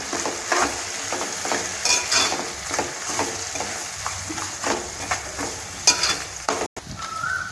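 Pieces of bottle gourd and raw prawns sizzle steadily in a pan with turmeric, with intermittent stirring scrapes and spatula clinks over the constant fry.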